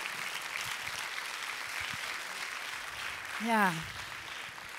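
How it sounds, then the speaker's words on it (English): Steady audience applause at a Hague Talks session fills the whole stretch at moderate volume, with a brief voice speaking over it near the end. "Another round of applause."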